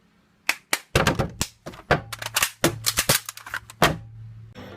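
Gunshot from a viral clip of a man firing a gun, a rapid string of sharp, loud cracks and thumps in quick irregular bursts, close up with no voices.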